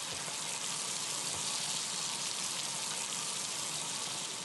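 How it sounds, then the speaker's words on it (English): Waterfall in the video game Ether One, a steady, even hiss of rushing water that holds unchanged throughout with no voices. "Oh, it's behind the waterfall."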